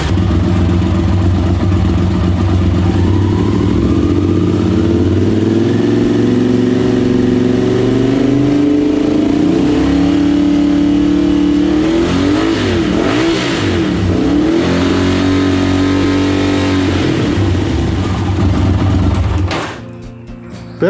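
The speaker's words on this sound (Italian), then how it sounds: "Facciamo il test con motore al minimo, dopodiché andremo a accelerare circa fino a 5000 giri al minuto." A motorcycle engine on test after a voltage regulator replacement idles steadily, then revs up to around 5000 rpm with a rising, wavering whine before dropping off sharply at the end; loud, close and continuous with no talking.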